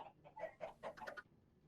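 Minecraft chickens cluck inside an automatic chicken machine that feeds them into a dispenser, with a quick run of close, bright clucks over about a second before falling quiet.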